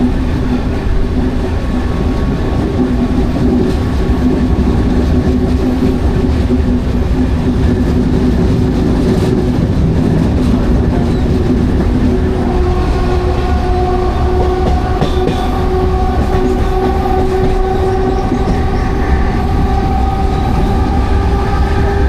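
Inside a moving train on a Saturday, a loud steady rumble of wheels and carriage fills the space throughout, with rail squeal and tonal whines rising in the second half.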